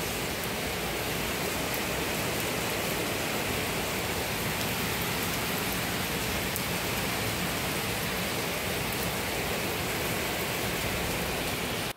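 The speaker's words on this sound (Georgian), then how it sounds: "ის როგორ წვიმს" Steady rain falls outside a home on a weekday morning, a dense, even hiss that holds without a break from start to finish.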